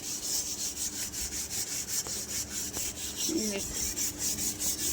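Steady rhythmic scrubbing of a burnt iron wok, the bristly rasping strokes repeating evenly and loudly close by with no pause.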